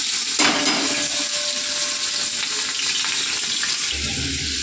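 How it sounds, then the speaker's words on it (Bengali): Chopped onions hit hot oil with a loud, close, crackling sizzle that stays steady and intense throughout, with a low thump near the end. "তেল গরম হয়ে গেছে, আমি তেলের মধ্যে কোচানো পেঁয়াজটা দিয়ে দেবো"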